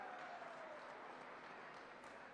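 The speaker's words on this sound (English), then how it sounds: "we'd be remiss if we didn't give Monica Ray a round of applause for allowing us to use her space tonight" A crowd applauds, a dense, steady patter of many hands clapping indoors, continuing evenly without cheering.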